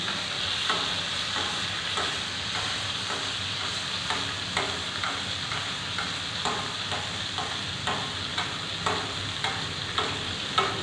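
Fish braising in butter in a pan, a steady soft sizzle and hiss with faint regular ticks of stirring, moderately quiet and continuous with no talking.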